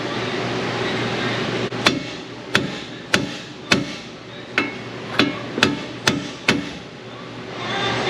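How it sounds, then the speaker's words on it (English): About nine sharp metal hammer blows knocking out tie rods on a 2003 Ford Mustang GT 4.6 ring out at a steady pace over a low mechanical hum, each strike loud and close. "I'm just going to bash them out with a hammer"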